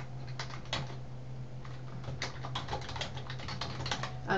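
Fingers tap on a computer keyboard in quick, uneven bursts of close clicking keystrokes over a low steady electrical hum, with brief pauses between runs.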